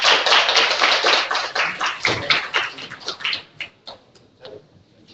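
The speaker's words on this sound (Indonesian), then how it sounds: "Tepuk tangan semuanya." Audience applause at a book launch event, a dense burst of many hands clapping that thins out toward the end into a few scattered claps.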